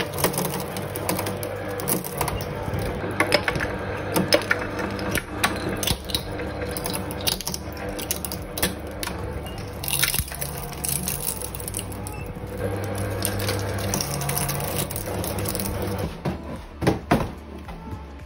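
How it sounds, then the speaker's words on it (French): A homemade 3D-printed shredder grinds plastic parts in a continuous, dense mechanical clatter of crunching and ratcheting that runs the whole time without pause. "Là j'ai déjà commencé à broyer pas mal de pièces"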